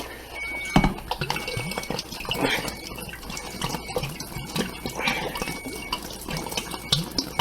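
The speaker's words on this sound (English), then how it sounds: "I'm going to add more water to this." Water poured steadily into a container indoors, heard close as a continuous splashing, gurgling flow with irregular bursts and drips throughout.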